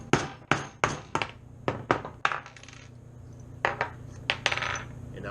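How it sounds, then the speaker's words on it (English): Nut driver with no bit tapping a brass .410 shell into a black pipe nipple, about a dozen sharp metallic knocks close by in uneven pairs and short runs. "take our nut driver without a bit in it, give it a couple taps"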